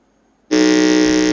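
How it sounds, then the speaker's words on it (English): Quiz contest buzzer at a regional science and maths quiz qualifier, a single loud, sustained electronic tone that starts abruptly after a moment of near silence. "can we hear the sound of your buzzer?"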